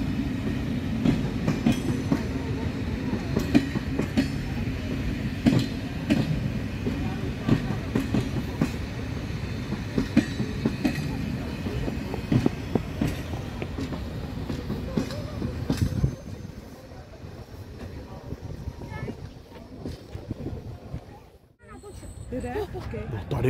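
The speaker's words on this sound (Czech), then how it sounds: "Rychlík." An express train rolls past at a railspotting meet in Lužná u Rakovníka, a loud steady rumble with clickety-clack from the wagons that drops off sharply after about sixteen seconds, with people talking over it.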